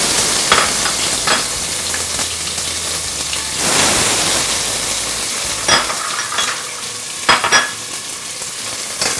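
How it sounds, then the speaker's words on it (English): Onions hitting smoking-hot oil for Rajasthani laal maas, a loud, steady sizzle and crackle of frying with occasional stirring scrapes, close and without talk. "Now oil has started smoking. I will add few whole mathani chilies for garnishing. Take it out. Now I'll add some onions."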